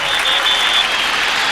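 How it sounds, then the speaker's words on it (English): A stadium crowd at a 1999 Cincinnati at Tennessee football game roars and applauds after a run, a dense, loud wash of cheering that holds steady throughout. "Now they cheer him wildly."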